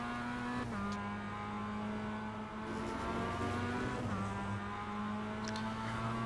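Mazda MX-5 race cars lapping Zolder in a sim racing game, a continuous droning engine note that holds steady with slight pitch shifts through gear changes, loud and close with no voices.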